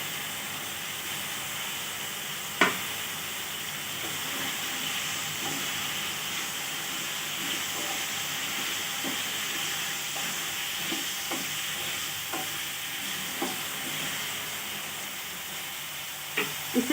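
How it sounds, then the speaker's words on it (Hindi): Potatoes fry in a spice masala for a methi masoor dal and papdi sabzi, giving a constant moderate sizzle broken by a few sharp clinks and scrapes of stirring. "2 मिनट तक मसाले को भून लीजिए आप, फिर डालेंगे इसमें हम आलू"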